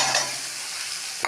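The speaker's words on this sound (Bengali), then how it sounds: "রসুনগুলো লাল হওয়ার পর তেলে পেঁয়াজগুলো দিয়ে দিলাম।" Onions dropped into hot oil just after browned garlic, for a jackfruit curry, giving a steady close sizzle with a brief stir and a sharp clatter right at the end, no voices.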